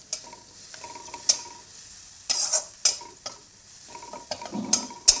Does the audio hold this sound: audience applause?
no